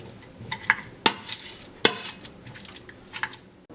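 Boiled potatoes being crushed in a pot, with a few soft scraping strokes and two sharp metallic clinks of the utensil against the pan, close and fairly quiet, with no talking.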